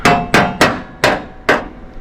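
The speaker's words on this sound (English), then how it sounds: "Take your body hammer here" A body hammer taps a replacement floor pan into place on a 1955 Chevy wagon during rust repair. Five sharp, close metallic taps land at a fairly even pace, each ringing briefly before the next.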